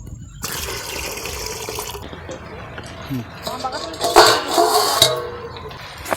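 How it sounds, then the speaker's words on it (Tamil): Water splashes and trickles into a metal pot for a palmyra tuber payasam, with clinking of the vessel and a brief louder gush near the end. "பாயாசத்துக்கு தண்ணி சேர்த்துக்கலாம்."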